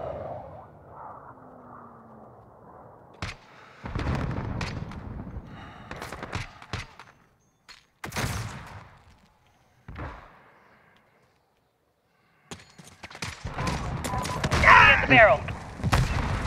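Call of Duty Modern Warfare 2019 precision airstrike explosions arrive as a scattered series of sharp, heavy blasts and thuds, some close and loud, with gunfire and voices mixed in among pauses of near-silence.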